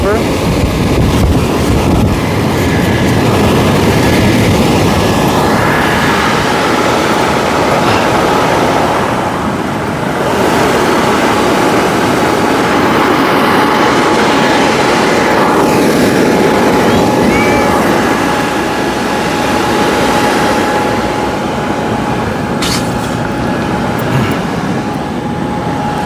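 Loud, constant roar of 950W and 550W blowers inflating a paint booth, with a rushing airflow hiss and a faint steady hum, continuing without a break throughout.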